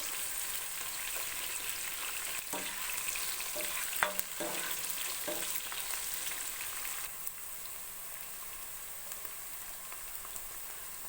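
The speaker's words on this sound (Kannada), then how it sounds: "ಈರುಳ್ಳಿ ಸ್ವಲ್ಪ ಬ್ರೌನ್ ಕಲರ್ ಬರೋವರೆಗೂ ಫ್ರೈ ಮಾಡ್ಕೊತಾ ಇರಬೇಕು" Onions frying in a pan until brown for methi chicken biryani, a steady close sizzle with a few sharp utensil clicks and stirring scrapes, continuous and fairly quiet with no talk.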